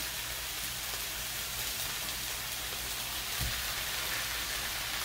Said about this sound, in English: So I am putting about 2 pounds of ground beef in with the onions and the garlic.